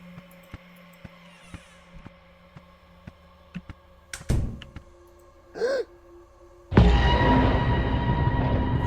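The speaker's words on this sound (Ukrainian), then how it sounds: "ці ще двері гупають просто прям неприємно" Doors in the horror game Bad Parenting: Mr Red Face bang shut: a heavy thud midway, then a louder slam that gives way to a sustained rumbling wash, over quiet ambient tones.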